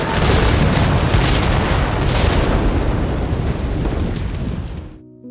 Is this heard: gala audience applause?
no